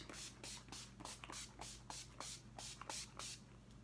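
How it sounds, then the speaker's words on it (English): Urban Decay Up All Nighter makeup setting spray misted in a quick series of about ten short, close pump bursts, each a crisp airy hiss at a steady rhythm, finishing off a soft glam eye look. "I always top my looks off with, of course, Urban Decay Up All Nighter Makeup Setting Spray"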